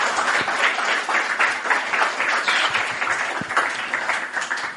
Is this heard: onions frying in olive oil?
no